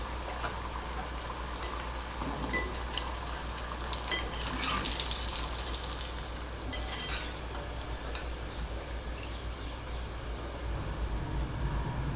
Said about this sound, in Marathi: हे बेबीकॉर्न ना थोडेसे असे अधनमधनं हलवत राहायचे म्हणजे ते सगळीकडनं व्यवस्थित तळले जातात